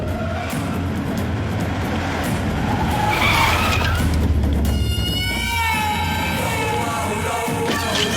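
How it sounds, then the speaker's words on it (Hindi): A car arrives with tires skidding and squealing loudly, engine roar building to a harsh screech that ends in a sudden stop, followed by a sustained high whine. "सरकार की गाड़ी आ रही है"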